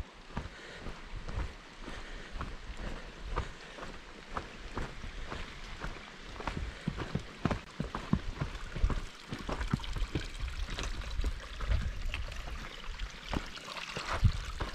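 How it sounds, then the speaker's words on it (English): A babbling mountain brook flows steadily along a trail near Lake Eleanor, a continuous close rush of water with scattered splashes and gurgles, no voices over it. "we've come to our babbling brook again"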